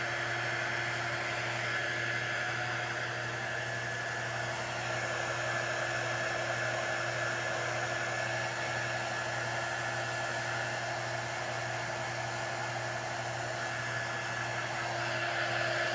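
A hair dryer runs steadily and close by, drying a freshly painted autumn sign, its even airy roar with a low motor hum holding unchanged throughout with no pauses.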